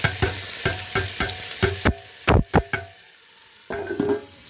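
Meat drops into hot oil seasoned with whole garam masala, cumin and dried red chillies, giving a loud sizzle under rhythmic scraping strokes of a spatula, then a short lull before the hissing and stirring resume.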